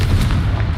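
A fire spell blast bursts in Hogwarts Legacy, heard as a brief, loud booming impact amid continuous low rumbling combat noise.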